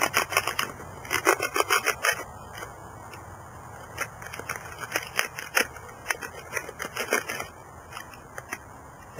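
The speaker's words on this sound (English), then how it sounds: "I'm going to take my multi-tool here, probably the one with the serrated edge, and I'm just going to cut the bottom of this off." Serrated multi-tool blade sawing through the bottom of a plastic container: steady rhythmic rasping strokes, close and fairly loud, continuing for several seconds with no talking.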